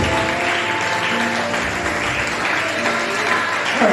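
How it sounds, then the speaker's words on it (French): Church congregation applauding in praise during a French-language worship service, steady sustained clapping filling the hall, with faint musical tones underneath and no speech. "Est-ce qu'on peut acclamer ce merveilleux Dieu?"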